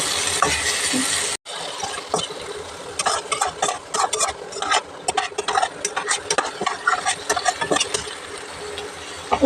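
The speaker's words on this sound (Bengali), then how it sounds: "এই যে আলু ভাজছি" Potatoes frying in a pan, a dense crackling sizzle broken by busy clinks and scrapes of a spoon stirring, close and loud after a brief cut at the start, with no talk.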